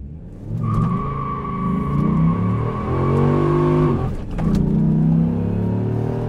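A 2004 Dodge Ram SRT-10 pickup with a six-speed manual accelerates hard, its engine roaring loudly and steadily up through the gears, with a brief dip at a shift before the rumble builds again close to the microphone.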